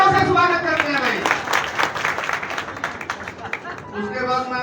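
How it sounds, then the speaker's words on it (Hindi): Applause at a BJP village rally in Dharodi, Narwana, greeting an invited speaker: scattered clapping from a crowd rising under someone speaking loudly over a PA, with the clapping bursts dense in the middle. "तालियों से स्वागत करते हैं भाई"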